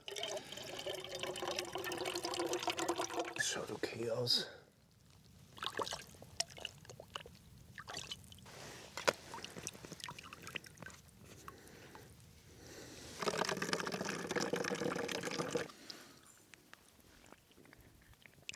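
Stream water splashes and gurgles into a pot in two bursts, outdoors in the Alps, with a quiet stretch and a few clinks between them. Someone speaks briefly.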